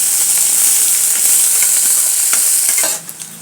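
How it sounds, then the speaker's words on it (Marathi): Ginger garlic paste fries in a pan for bhendi, giving a loud, steady, close-up sizzle with scattered stirring scrapes before it suddenly drops away near the end. "हे आलं लसूण पेस्ट आहे. छान असं भाजून घ्यायचं."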